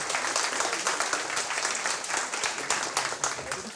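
An audience at a dictation contest prize ceremony applauds the third-place winner, a brief burst of dense, even clapping with a faint voice underneath.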